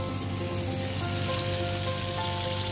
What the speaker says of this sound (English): Got it frying right now.